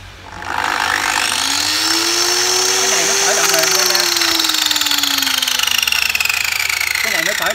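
A Japanese domestic-market 100V electric saw winds up slowly from a standstill, its whine rising in pitch over several seconds and then holding at a steady high speed, loud and close.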